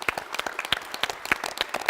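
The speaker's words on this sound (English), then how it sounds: "Give her a round of applause." An audience at a school quiz show claps for an English teacher, a sparse scattered round of individual claps with distinct sharp hits rather than a dense roar.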